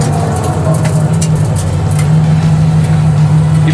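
A supercharged Chevy C10 pickup's engine rumbles loudly and steadily at close range during a burnout, a deep droning tone, no clear tire squeal.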